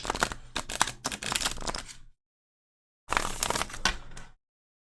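Tarot cards shuffled by hand in two close bursts of rapid riffling and flicking, separated by a second of silence, with no talk.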